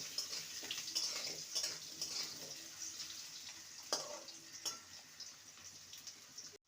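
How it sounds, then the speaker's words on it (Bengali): Two medium potatoes cut into pieces fry in a pan for a vegetarian papaya dish, giving a soft, steady hissing sizzle with a few faint clicks and scrapes, fairly quiet and free of speech. "আলুটা দিয়ে দেবো আলুটাকে ভেজে নেব"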